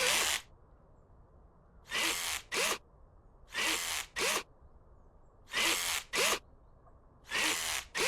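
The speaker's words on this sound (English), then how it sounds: "this is the world's most expensive electric screwdriver, but man, it works" Electric screwdriver spinning off car wheel nuts in Car Dealer Simulator, heard as five loud whirring bursts in close pairs, each a short high-pitched drill whine with brief gaps between, over a quiet background.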